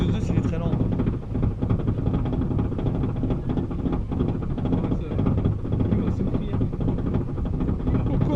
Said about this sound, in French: Il y a un moteur en souffrance sur ce Vekoma